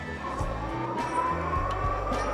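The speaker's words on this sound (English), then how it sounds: "I'm like peeling out, even using the twist throttle" AMYET S8 dual-motor eBike, its rear tire peeling out under twist throttle, giving a steady whirring motor drone with a sustained scrubbing tire noise and a faint rhythmic pulsing underneath.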